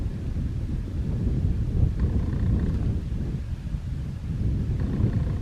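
Strong wind gusts roar steadily across a canyon campsite below tall cliffs, a dense, low rumbling rush that swells and eases without pause and with no voices.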